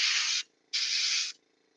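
Aerosol primer sprayed onto a Guild Ball miniature held upside down, two steady hissing bursts of similar length separated by a short pause, close and clean with no talk.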